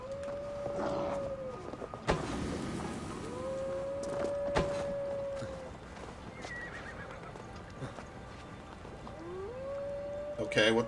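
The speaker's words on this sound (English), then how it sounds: "wolves howling is so overdone" Wolves howl in Assassin's Creed Valhalla during the Siege of Paris: three long, steady howls rise and hold, separated by pauses, over a bed of game ambience with a few sharp thuds.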